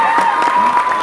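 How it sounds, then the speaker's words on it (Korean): A brief burst of audience applause and crowd noise at an admissions information session for a convergence content school, with a steady tone running underneath. "박수 쳐주세요."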